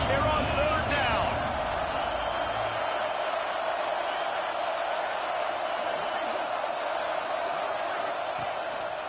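A stadium crowd at an Auburn football game in a video game gives a steady, loud roar of cheering throughout, with a commentator speaking briefly at the start.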